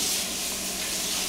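Sausages frying in a pan, a dense continuous hiss and crackle of sizzling fat at close range, steady and alone with no talking.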